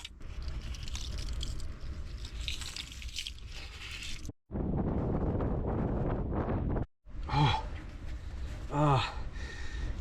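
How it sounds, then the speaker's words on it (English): Cold winter wind buffets the microphone at a freezing Jeep car-camping spot, loud gusty roaring with two abrupt dropouts, and a voice speaks briefly near the end. "This wind is killing me."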